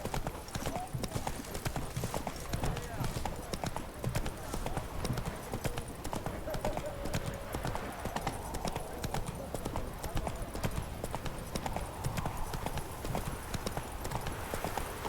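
Roach, the horse in The Witcher 3, gallops with fast, rhythmic hoofbeats that run unbroken throughout, while a voice talks over the gallop.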